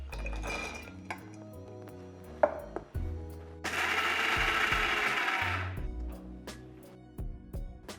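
A kitchen mixer grinder coarsely grinds peanuts in one loud, steady whirring burst of a couple of seconds, framed by clinks and taps of jar and utensils.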